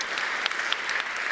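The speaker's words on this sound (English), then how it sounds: "Let us give a good round of applause to our speakers." An audience applauds panel speakers at a conference on low-carbon economic transformation, a steady patter of many hands clapping at moderate distance, briefly and without talk.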